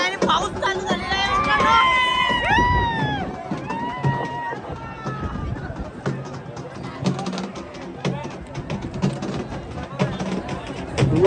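A crowd at a bullock cart race in Vadaki, India, erupts in loud cheering and whistling, the roar peaking early and then settling into excited babble and shouting under rain.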